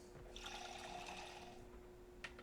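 Water running into a bottle at a water dispenser in Project Zomboid, a steady trickling pour lasting about a second, moderately faint, followed by a short click.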